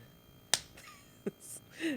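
Single sharp hand clap for audio sync at a podcast recording, close and crisp, followed by a softer tap and faint shuffling in a quiet room.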